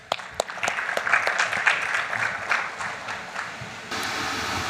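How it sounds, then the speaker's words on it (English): Conference audience applauding an insurance talk's speaker, a few sharp opening claps swelling into a broad, fairly loud wash of clapping that fades and gives way to steady room hiss. "A round of applause, please, for our speaker"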